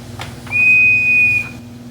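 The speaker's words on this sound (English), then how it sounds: "every single pipe is just a whistle." A single church organ pipe, blown by mouth like a whistle, sounds a steady, pure tone for about a second, clear and close, starting and stopping cleanly against a quiet low hum.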